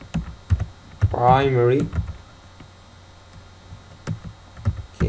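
Keys clack on a computer keyboard while entering a MySQL table definition, quick bursts of close taps with a short spoken word between them.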